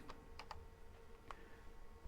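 Computer keyboard typing a command while upgrading a Cisco 9300 network switch, a few quick close key clicks in a short burst and then a single later tap, quiet over low hum.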